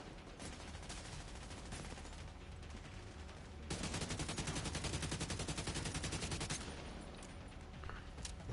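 Sustained gunfire from The Division 2, with dense overlapping shots and rattling bursts that grow louder and more rapid midway before easing back to scattered fire, with no talk.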